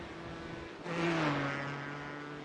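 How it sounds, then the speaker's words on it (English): An LMP1 prototype race car in a Monza racing video game sweeps past, a steady engine drone that swells suddenly into a louder whooshing pass with a falling pitch, then settles back, no voices over it. "got LMP1 coming up"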